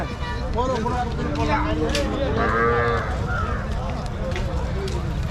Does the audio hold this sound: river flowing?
no